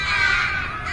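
A single drawn-out crow caw rings out, fairly close and clear, with no talking.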